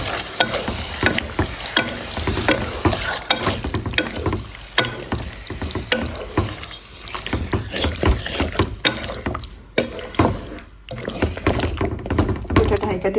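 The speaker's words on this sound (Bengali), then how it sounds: "এই মাংসর পানিতে মাংস কষাই নেব।" Farm chicken pieces stir-fry and braise in their own juices in a pan, with loud sizzling and repeated scraping stir strokes. A voice talks intermittently over the cooking.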